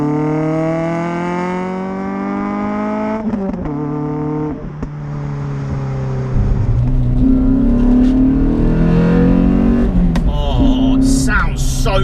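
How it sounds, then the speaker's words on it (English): Renault Clio 182 with a Yazuza Sport exhaust, a cammed naturally aspirated hatchback, sweeping up through the revs with a rising engine tone, dropping off, then returning louder and closer with a deep throaty drone and a sharp final burst. "That exhaust system, the Yazuza Sport, I'm gonna call it, exhaust system sounds insane."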